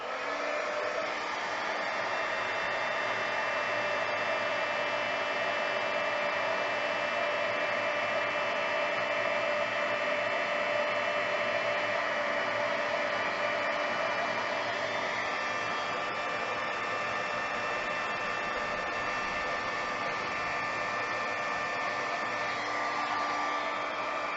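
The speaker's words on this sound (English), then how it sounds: "So let's go ahead and get our heating tool." Embossing heat tool blowing hot air over handmade scented embossing powder, a steady, loud, continuous whirring hiss with a fan-like hum that holds unbroken from start to finish, with no talking.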